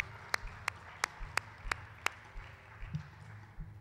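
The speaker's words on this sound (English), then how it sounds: "Can we give them a hand clap of praise?" Congregation at a church service clapping for the music ministry, six sharp separate claps at an even beat, then a softer scatter of noise, fairly quiet overall.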